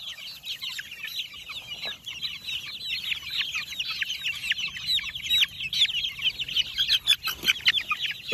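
A crowd of young chicks chirps constantly, with rapid overlapping high peeps that grow busier toward the end, close by and without any talk.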